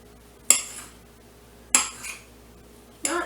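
Three separate knife cuts through smoked sausage, each a sharp knock of the blade on a cutting board followed by a short scrape, spaced over a quiet background.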